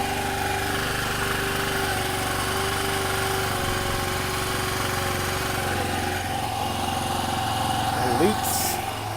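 A rebuilt Honda Elite 150 scooter engine runs steadily at high idle, a continuous near drone with a constant hum throughout, with brief clatter near the end.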